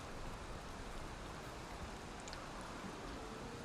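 Constant rain in the video game Valheim makes a faint, steady hiss of falling drops with no pauses and no voices.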